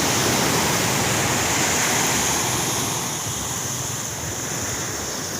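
Ocean waves at Sasak beach in Pasaman Barat, West Sumatra, produce a dense, loud, continuous rush of surf with wind, easing slightly toward the end and heard alone without talk.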